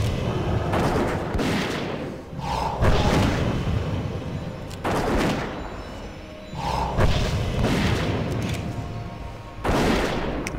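Repeated heavy booming gunshots from a hunter's gun in World of Warcraft: Wrath of the Lich King, loud blasts in bursts of two or three every couple of seconds over a steady game background.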